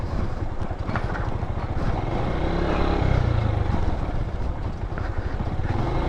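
Honda TMX 125 Alpha motorcycle riding along a road, a steady continuous engine hum mixed with heavy wind rush at a moderate, even level throughout.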